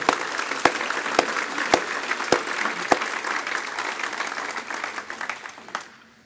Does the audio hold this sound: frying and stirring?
no